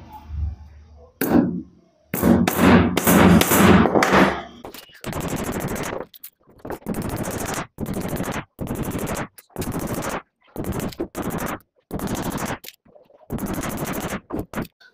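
A hammer drives 1.25-inch nails into the wooden frame of a drawer bed. A fast rapid burst of knocks comes first, then a long run of steady single loud blows, evenly spaced and close, with no voices.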